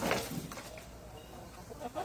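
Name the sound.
guinea fowl calling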